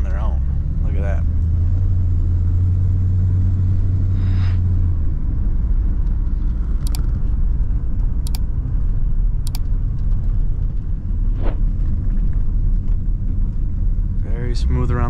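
A 1950 Ford Custom Coupe with an added sway bar drives on the road, its engine and road rumble steady and prominent throughout, with a few brief clicks.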